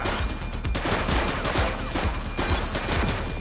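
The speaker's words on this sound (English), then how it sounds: "He's shooting!" Sustained gunfire in the police game The Precinct, dense overlapping rapid shots forming a continuous loud fusillade with no gaps.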